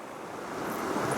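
Creek water rushes steadily beside a gold panner, a brief, close wash of broadband flow noise with no voices.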